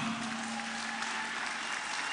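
Concert audience applauding a group at a Radio Lumière anniversary concert, brief, even clapping from a crowd heard at a moderate distance.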